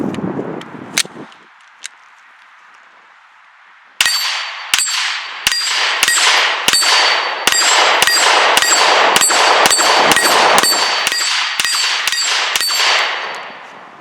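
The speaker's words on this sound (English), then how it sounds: "Let's put this first magazine through the Masada, see how it does." An IWI Masada pistol is fired at an 8-inch steel plate 10 yards away. A few separate shots come first, then a rapid string of about fifteen loud reports, each followed by a ringing metallic clang from the steel.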